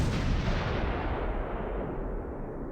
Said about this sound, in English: Indirect fire from a Russian mortar, a heavy mortar, probably 120mm